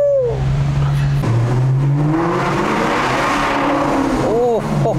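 A Maserati GranTurismo S 4.7 MC's V8 revs hard, climbing in pitch as it accelerates and booming loudly and close, with a few brief excited voice exclamations over it.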